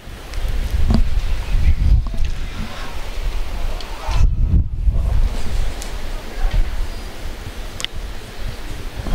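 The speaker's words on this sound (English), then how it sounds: "The wind gusting again here" Wind gusting across a high school baseball field, buffeting the microphone in loud rumbling bursts that swell and fade, with a broadcast commentator talking over it.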